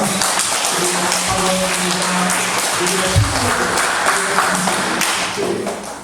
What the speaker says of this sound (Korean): 우리 함께 들어서 박수를 하자.